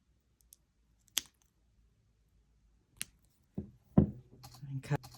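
A few sharp, crisp snips of small cutters trimming excess jewelry wire while wrapping an earring, isolated clicks spaced apart against near silence, followed by soft handling rustle.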